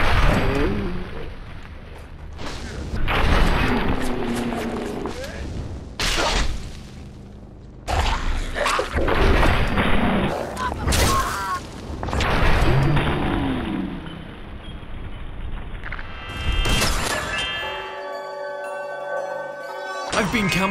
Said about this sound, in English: here's the Shishkebab in action